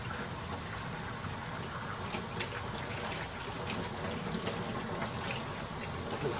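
Hot running water rinses freshly painted whitetail deer antlers, a steady close wash of splashing and trickling that carries on evenly without pause.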